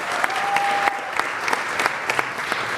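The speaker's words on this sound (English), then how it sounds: "So a round of applause for all our coaches and volunteers." Applause from a gathering honouring coaches and volunteers at a city council meeting, a steady dense wash of many hands clapping with scattered sharper claps, continuous and fairly loud throughout.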